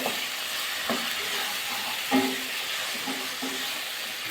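Spices, ginger and tomato sautéing in a pan for a Bengali flat bean dish, a soft continuous sizzle and hiss with a few light scrapes of stirring, close but fairly quiet.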